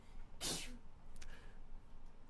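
A single sharp sneeze bursts out, followed by a brief smaller sound, against a quiet room background.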